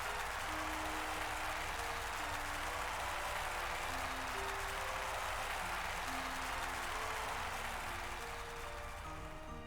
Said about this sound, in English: Their performance finished, the pair left the stage, to the sound of thundering applause.